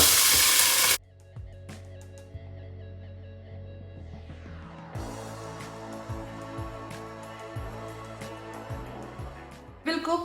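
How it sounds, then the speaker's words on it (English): Lamb pieces hit hot mustard oil in a pressure cooker for a Rogan Josh curry, giving a loud initial burst of sizzling that settles into steady frying crackle with occasional stirring knocks. "Once the oil is heated, we'll put our lamb pieces into the cooker."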